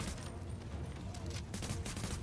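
Gunfire in The Division video game, rapid bursts of shots, some apparently from a shotgun, fairly close but low in level, with a voice speaking over them.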